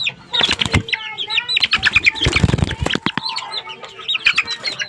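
Young black chicks flap their wings and flutter about close by, with quick repeated wing beats and scuffling mixed with soft cheeping and clucking from the fowl.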